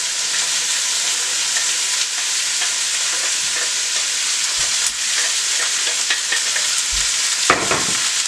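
Pork and sliced green pepper frying in a hot pan, a loud, continuous close sizzle with occasional stirring clicks and scrapes of a utensil.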